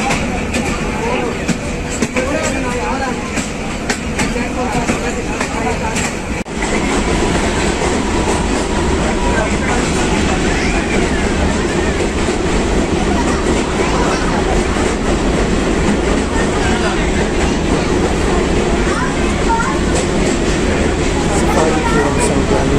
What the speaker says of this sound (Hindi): सफारी ट्रेन संजाली टनल में से गुजरते हुए